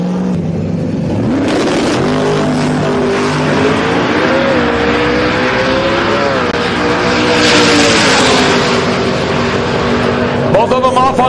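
Drag racing cars launch hard at Sick Week, one a Camaro lifting its front wheels, with loud roaring engines rising and shifting in pitch and tire noise, as an announcer talks over the run.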